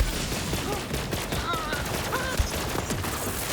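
Gunfire in Borderlands 3 crackles as a steady stream of rapid shots, with one heavier thump standing out, mixed with game effects and a player's voice talking over it.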